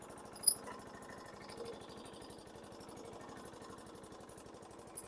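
Engine of a 2006 Troy-Bilt front-wheel-drive self-propelled lawn mower idling at low RPM, a faint steady rapid putter throughout with one brief louder knock near the start.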